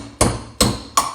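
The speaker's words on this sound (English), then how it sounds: "Take the tool, hammer it in." Three sharp metal hammer blows drive a bearing tool into the wheel hub of a Coleman mini bike, spaced roughly evenly, each strike ringing briefly, loud and close.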